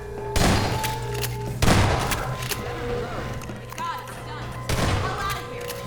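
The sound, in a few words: shotgun firing in the video game Half-Life 2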